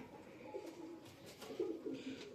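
Racing pigeons coo softly in a dirty loft, a few low throaty calls rising near the end, faint and close with no talk.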